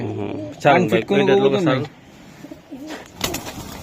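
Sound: racer pigeons cooing

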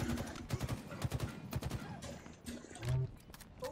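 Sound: gunfire in the Halo Infinite video game

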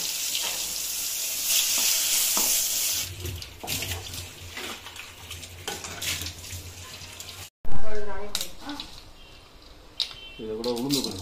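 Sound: tempering spices frying in oil

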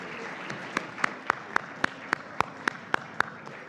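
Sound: banquet audience applauding award winners

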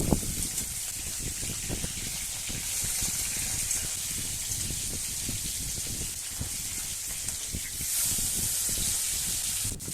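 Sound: rohu fish sizzling while frying in oil

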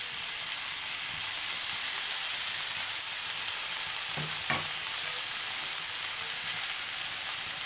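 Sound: soy sauce added to chili chicken frying in pan

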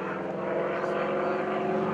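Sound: North American T-6 propeller tips going supersonic during airshow

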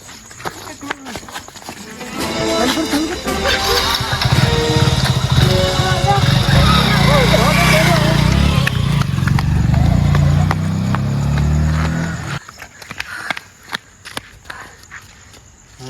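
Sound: motorcycle being ridden away by thieves

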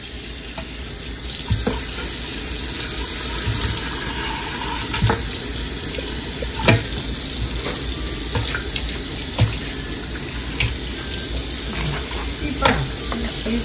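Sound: washing chicken feet and beef feet under running tap water

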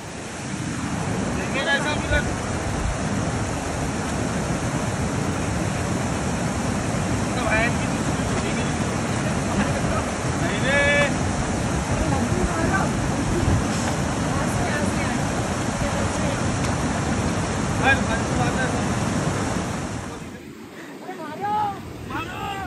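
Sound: water flowing below the dam at Venna Lake

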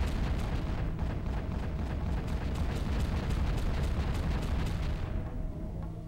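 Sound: monorail-mounted gun firing in video game Armorines: Project S.W.A.R.M

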